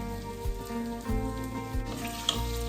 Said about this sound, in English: Melt that butter in there.